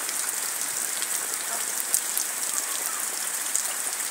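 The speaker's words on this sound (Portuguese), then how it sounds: "Veja o tamanho dessa chuva aí," Heavy rain pours down steadily in Ceará, Brazil, a dense, continuous hiss of drops hitting the ground and pavement, loud and close throughout with no voices.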